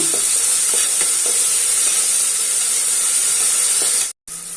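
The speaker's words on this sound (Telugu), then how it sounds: "ఒక హాఫ్ టీ స్పూన్ అల్లం వెల్లుల్లి పేస్ట్ వేయాలండి ఒకసారి అంతా కూడా ఫ్రై చేస్తున్నాం" Onions frying with ginger garlic paste in a cooker for a beans and tomato curry, giving a steady close sizzle and hiss with faint stirring scrapes, broken by a brief dropout near the end.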